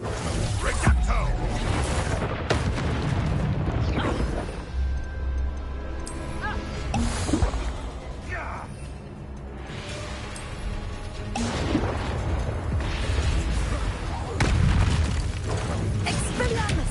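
A Reducto spell blast in the video game Hogwarts Legacy, heavy whooshing bursts and crashing booms recurring over a rumbling backdrop of effects and score.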